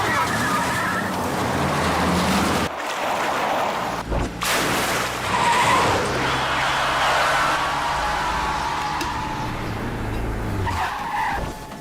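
Car engine revving hard and tires skidding and squealing as the vehicle tears off in an action-film getaway, loud and sustained with a brief pause midway, under tense music and effects.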